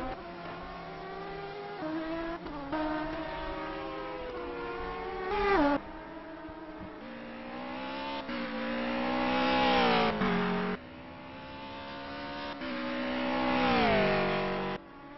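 TRV6 race cars accelerate around the Surfers Paradise street circuit, engines rising in pitch through repeated gear changes, loud and continuous with overlapping motors sweeping up and down.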